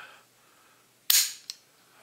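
The firing pin of an old 20-gauge shotgun snaps with one sharp metallic click as the trigger is pulled, followed by a smaller click a moment later, in an otherwise quiet room.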